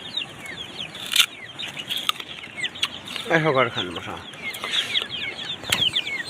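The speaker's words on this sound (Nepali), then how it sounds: "कुखुराले पनि उखु खाँदैछ" Chickens cluck and chatter close by while pecking at sugarcane outdoors, with scattered wing flaps and a louder clucking burst midway; someone speaks briefly over them.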